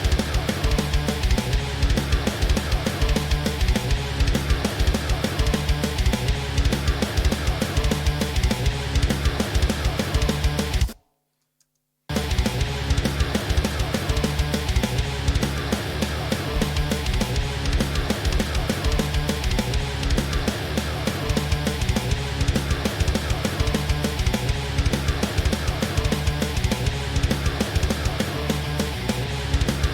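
Processed drum samples triggered in Slate Trigger with their tuning changed, fully mixed with EQ, compression and tape saturation, play as a dense, loud, continuous pattern with a brief dropout near the middle.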